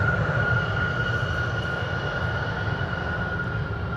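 A KLM Embraer 190 airliner returning from Frankfurt to Amsterdam Schiphol produces a steady, moderately loud jet rumble with a sustained whining tone running through it.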